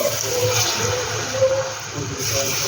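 Palm fritter batter goes into hot oil in a home kitchen and fries with a steady low hiss and bubbling, close and moderately quiet, without talk.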